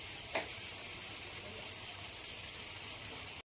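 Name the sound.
water spinach frying in a wok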